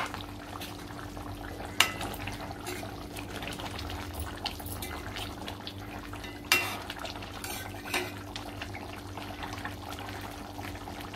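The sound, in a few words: mutton curry boiling in a pot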